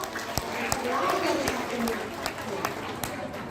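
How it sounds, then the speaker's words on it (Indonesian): A seminar audience gives a short round of applause, a moderate wash of clapping with some crowd murmur and a few sharper individual claps standing out. "Luar biasa, tepuk tangan dong."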